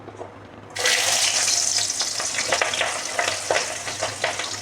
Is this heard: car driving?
no